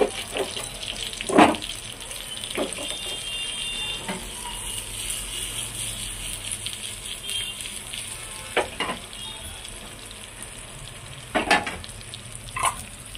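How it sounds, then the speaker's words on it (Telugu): Garlic cloves fry in hot oil with a steady crackling sizzle throughout, broken by a few sharp clinks and scrapes of a utensil against the pan. "ఆయిల్ వేడయ్యాక కొంచెం వెల్లుల్లి రెమ్మలు వేసుకుంటున్నాను"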